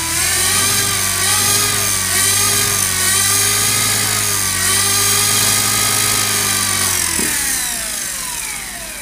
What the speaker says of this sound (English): I'll just power it up very slowly and see if we can get some rotation on these rotors